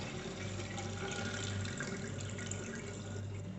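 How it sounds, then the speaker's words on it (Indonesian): Water is poured out of a cooking pot while rinsing turmeric-tinted rice, a soft continuous splashing and trickling close by with no talk. "Ini saya akan buang airnya"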